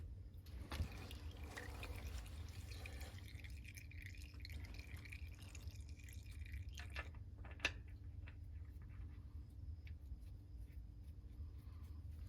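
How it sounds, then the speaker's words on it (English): Oil drips from a tractor during servicing, landing as faint, sparse taps over a low steady hum, with one sharper drop standing out. "that's enough of that dripping"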